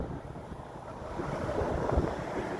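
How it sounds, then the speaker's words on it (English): The flooded Passaic River in Fairfield, North Jersey, runs fast over the land as a steady, broad rushing roar of water mixed with wind buffeting the microphone, continuous and fairly loud with no voices. "you can see that current moving quickly, moving really quickly"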